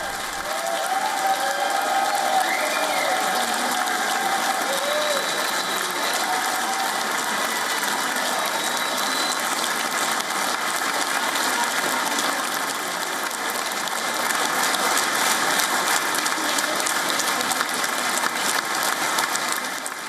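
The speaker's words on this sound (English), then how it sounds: "he and his team received rapturous applause at Israeli Knesset" Rapturous applause fills the Israeli Knesset chamber, a dense, steady roar of many hands clapping at once that holds at full strength without pause for the whole stretch.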